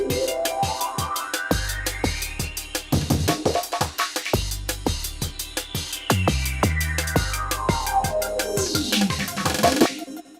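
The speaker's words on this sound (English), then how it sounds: "the original groove that we started sampling from today out of the EMX-1 sounds like this" Old-school drum groove from a Korg Electribe EMX-1, with punchy kicks, crisp snares and busy hats in a steady driving pattern, a sweeping filtered synth tone arching over the beat, loud and alone.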